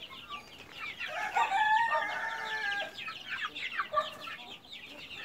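Backyard chickens, including a batch of young birds about two weeks old, cluck in a busy chorus while a rooster crows, all at a moderate distance with no talk.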